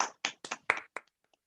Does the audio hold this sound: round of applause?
yes